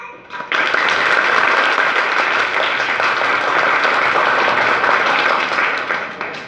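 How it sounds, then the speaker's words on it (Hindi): Loud, sustained applause from a crowd at an education awareness event in Jaranwala, starting abruptly and continuing steadily for several seconds, with a few voices faintly mixed in. "क्लैपिंग्स।"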